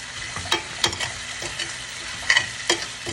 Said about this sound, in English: Let this saute for a little bit,